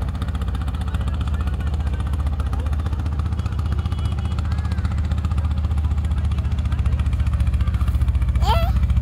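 A motorboat engine chugging on a river, a steady low throbbing drone that holds close and loud throughout, with a brief high chirp near the end.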